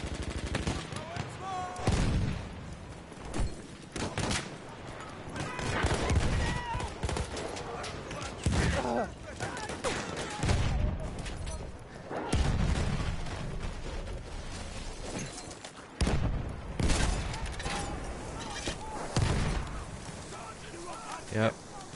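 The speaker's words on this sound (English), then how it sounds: "Watch out for mortars." Battlefield 1 mortar shells and gunfire: a dense, continuous battle din with repeated heavy booms and crackling shots, loud and close, while players talk over it.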